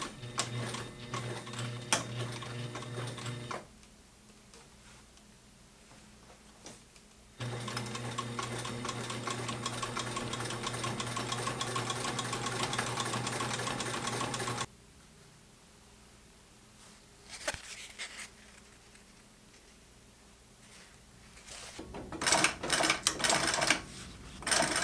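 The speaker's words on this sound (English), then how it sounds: "I'm gonna use my Sailrite Ultrafeed LSZ1 since it is capable of a zigzag stitch." A Sailrite Ultrafeed LSZ1 sewing machine runs a zigzag stitch on a DIY travel bag in two long loud bursts of rapid, rhythmic needle clatter, separated by quiet pauses, with some handling clicks near the end.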